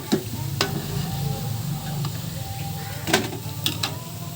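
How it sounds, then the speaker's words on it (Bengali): Bora fritters fried red-brown in hot oil sizzle steadily while a utensil lifts them out, with a few sharp metallic clinks and scrapes standing out close by. "এই পাশে বড়াটা লাল লাল করে ভাজা হয়ে গিয়েছে, আমি এখন তুলে নিব"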